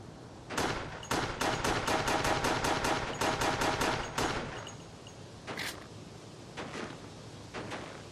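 Rapid bursts of gunfire in the zombie shooter Resident Evil: The Darkside Chronicles, a fast string of sharp shots followed by a few scattered single shots, loud and close with no talk.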